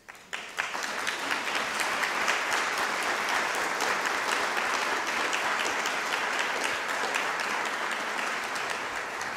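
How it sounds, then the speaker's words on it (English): A ceremony audience at a 2014 presidential citation awards event applauds its honored recipients, steady dense clapping that rises quickly and holds loud and sustained throughout, with no talk over it. "please, another round of applause for all of our recipients"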